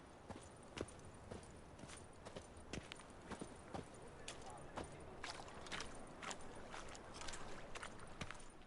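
The hooves of Roach, Geralt's horse in The Witcher 3, clop in a steady rhythmic trot. The sound is faint and fairly close, over a soft background.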